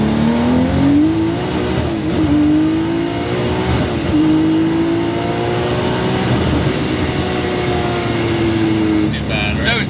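An 850 hp Gunther Werks Porsche 911 Turbo with a built transmission drones steadily from inside the cabin while driving. The engine tone rises and then dips at each gear change, and people talk over it throughout.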